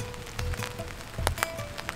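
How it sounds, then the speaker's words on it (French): Light rain patters on a poncho outdoors, with scattered close drops tapping irregularly against the fabric, soft and quiet with no talking. "Il pleut vraiment un tout petit peu, infiniment."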